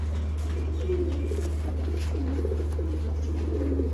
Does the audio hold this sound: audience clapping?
no